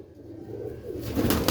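Pigeons coo close by, soft throaty calls swelling toward the end amid a low ambient background.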